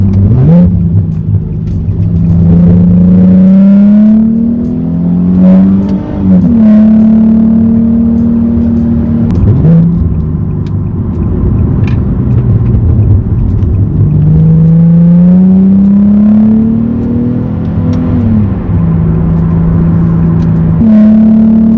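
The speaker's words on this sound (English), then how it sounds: "The road noise is noticeably less than before" Steady engine drone and road rumble heard from inside a Nissan 370Z with sound deadening, with the engine pitch rising and falling as it revs and shifts gears.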